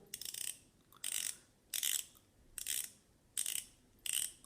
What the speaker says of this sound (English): It's a 60 click bezel.